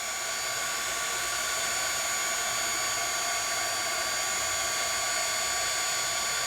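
A heat tool runs steadily to warm and shrink a piece of shrink plastic for a craft project. It gives off a constant whirring blower noise with a high tonal whine, unbroken and fairly close, with no talking.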